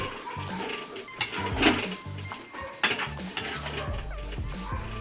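A spoon clinks and scrapes against a pan while aloo dum with yogurt and garam masala is stirred, making irregular metallic knocks and rattles at close range, with a voice speaking briefly.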